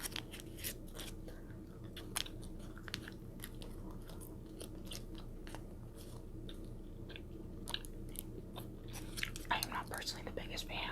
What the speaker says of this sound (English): Personally the biggest fan of like gum chewing.